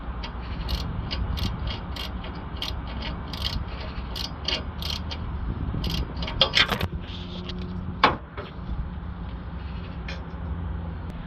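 A ratchet clicks in quick, sharp runs while a thread repair tool is backed out of the exhaust on a Ford Transit Custom 2.2 Euro 5 van. Close metallic clicks continue, then a single louder clank stands out.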